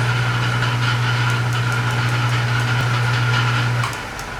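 A restored horizontal shaper, once found in a scrap yard, runs in first gear with a steady motor hum and faint rhythmic clicks from the moving ram, then winds down near the end.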